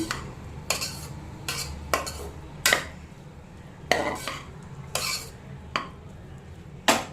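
A spoon stirs and scrapes a curry in a metal pot with grated coconut, giving sharp, irregular clanks and scrapes spaced about every half second to a second, close and clear with no talking.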